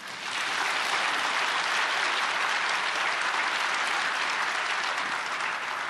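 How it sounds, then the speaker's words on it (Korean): Sustained applause from an audience welcoming the president of Nazarene University at a prayer meeting for peaceful reunification, a dense, steady wash of clapping that stays loud and even throughout. "우리 나사렛 대학교 임승환 총장님 나오실 때 박수로 환영해 주시겠습니다"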